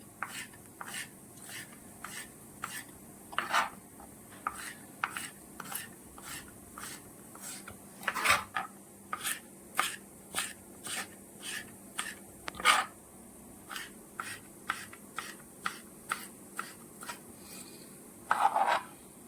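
A knife julienne-cuts tomato skin on a board for a mixed salad, giving a run of short, crisp, evenly spaced cutting taps close by, with a few louder knocks scattered through and no talking.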